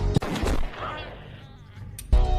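A gunshot cracks out in a cannibal-mutant forest horror film. A sharp report opens the clip and a second loud blast lands near the end, with rumbling film sound in between.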